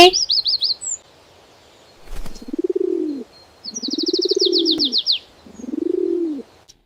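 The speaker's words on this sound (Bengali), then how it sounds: "ঘুঘু পাখি ডাকছে গাছে" A dove calls from a tree, three soft rolling coos in slow succession, close and clear, with quick high chirps from other birds before and between.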